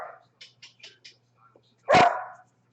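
A dog barks several times in quick, short yips, then gives one louder, longer bark near the end, with faint background hum and no talking.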